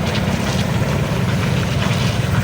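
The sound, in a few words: concrete mixer truck engine at construction site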